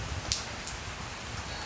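Steady rain falling during a storm in California, a continuous soft hiss with a few brighter drop ticks, moderate and even throughout with no voices.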